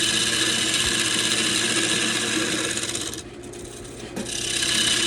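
Continuous, steady scraping hiss of a chisel cutting soft, partly rotten sweetgum wood spinning on a lathe, held close and fairly loud, with a brief dip midway before the cut resumes.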